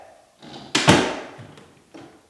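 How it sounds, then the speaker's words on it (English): A door swings shut with a solid thud and a brief rattle, followed by a softer click as it latches, close by. "The door is closing and latching perfectly."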